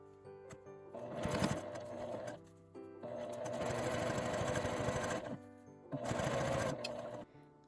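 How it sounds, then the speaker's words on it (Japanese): A sewing machine edge-stitching seams on a small zippered quilted pouch, running in three bursts of rapid rhythmic needle clatter with brief pauses between them, close and clear. "縫い代は上に倒して端ミシンをかけます。"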